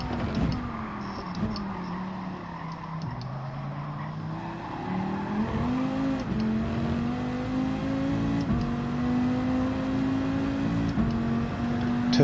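Car engine in Gran Turismo 7 revving hard through the gears, a loud close whine that rises and drops again and again as it shifts, with no talking.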